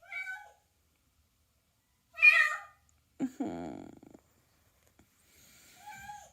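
Cat meowing loudly from inside a wall, several separate drawn-out cries with quiet gaps between them, close and clear, with a low purring or growling sound partway through.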